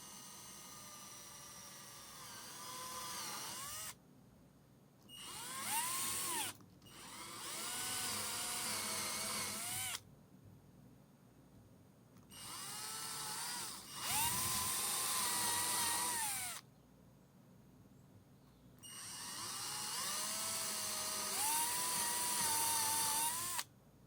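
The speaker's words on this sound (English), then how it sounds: "I'll start with a few pilot holes, then step up to a larger bit." A drill bores pilot holes into a Danelectro Telecaster-style guitar body, several separate whining bursts that rise and fall in pitch, with short quiet pauses between them, fairly soft overall.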